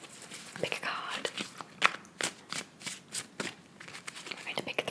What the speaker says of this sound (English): I'm going to give it a little shuffle to my friend's deck,